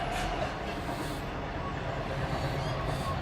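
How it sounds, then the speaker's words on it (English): A steady, broad rumble and rush of a train going past, with faint squeals on top and a low murmur of voices beneath. "that's the train going past"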